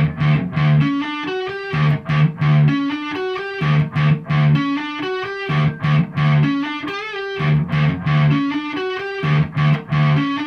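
Electric guitar plays a punchy, repeating riff: short chopped notes and chords, loud and rhythmic, with brief gaps between phrases.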